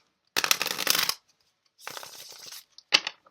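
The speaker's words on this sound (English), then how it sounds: "I'm so sorry if you hear my cards hit my desk" Tarot cards being shuffled close to the microphone in three quick bursts, the first longest, with crisp riffling slaps and a sharp tap as the deck hits a desk, set against silence.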